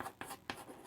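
Writing on a board in a classroom English lesson: three quick, faint scratchy strokes in about a second, with no talk.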